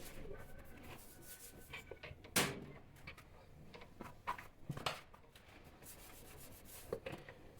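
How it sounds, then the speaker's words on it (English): Mandazi dough ingredients are rubbed together by hand, giving faint, soft scraping and rubbing sounds with a few sharper scuffs, close and quiet. "you do the rubbing"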